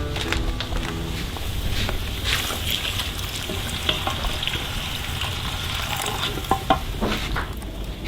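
Green papaya cooking in a pot over a fire outdoors in a jungle setting, a steady bubbling and sizzling wash with occasional clinks and knocks, continuous and fairly close, with no talking.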